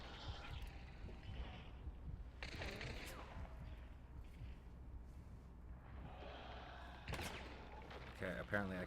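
Gunshots striking the player in a video game: scattered shots and bursts of fire come at moderate loudness, with a voice talking over much of it.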